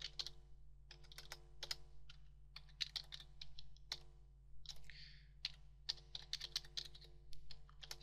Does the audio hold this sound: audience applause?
no